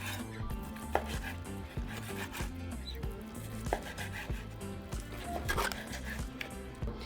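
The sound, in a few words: knife cutting steak into small cubes for carne asada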